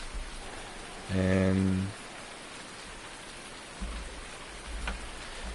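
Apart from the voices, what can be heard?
rain falling in the video game Farming Simulator 19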